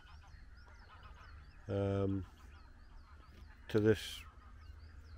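Geese give two loud honking calls by a reservoir in a nature reserve, the first a sustained nasal honk and the second a shorter burst a couple of seconds later, over quiet outdoor ambience with a brief spoken word.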